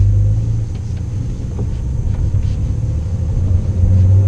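A Porsche 911 Carrera 4S of the 992 generation pulling away, heard as a low, steady engine rumble from inside the car, fairly loud and smooth without sharp revving.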